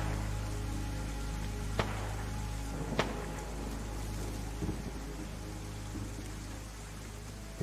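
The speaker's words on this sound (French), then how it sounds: "Et toujours cette pluie, inexorable, assourdissante et glaciale." Steady rain pours down in a DayZ game storm, a dense constant hiss with a few sharp drop or crack transients and a low rumbling undertone, no voices.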